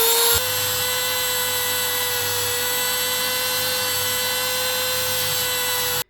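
Dremel rotary tool grinding a plastic part of a 1/18 Lotus Esprit model car, a steady high-pitched whine that starts abruptly, holds loud and constant for about six seconds, then cuts off.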